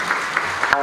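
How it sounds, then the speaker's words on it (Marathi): Applause from an audience at a Marathi kirtan gathering, a brief wash of clapping with a few sharper claps, ending abruptly. "जोरदार टाळ्या या परिवारासाठी झाल्या पाहिजे."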